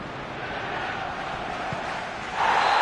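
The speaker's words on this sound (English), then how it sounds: "Crowd appreciates good football all round there." Stadium crowd in a football video game, a steady broad roar of spectators that swells louder near the end, with no voices standing out.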